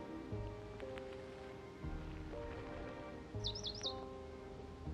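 A small bird chirps in the game I Am Dead, with a quick bright warbling call near the end, set against a soft musical background with light pattering.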